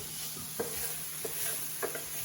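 Vegetables being mixed with rice and lentils in a pan for a veggie lentil bake, with soft spoon knocks and scrapes at a slow, irregular pace over a quiet steady background.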